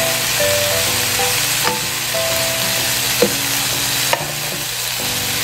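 Spinach with turmeric and salt stirred in a pan, a steady sizzle running throughout with a few sharp scrapes of the spoon against the pan, near and alone, with soft music underneath.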